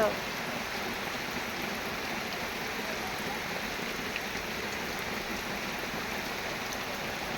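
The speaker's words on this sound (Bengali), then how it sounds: "দেখো সকাল সকাল এত বৃষ্টি" Heavy rain pours steadily at dawn beside a pond, a dense, even hiss of falling water close by that holds at a constant level without a break.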